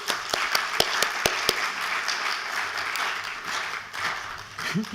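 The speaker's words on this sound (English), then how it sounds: "So let's give them applause" An audience applauds the speakers of a panel session on environmental goals, with a few sharp nearby claps standing out over a steady, moderately quiet wash of clapping, followed by brief talk at the end.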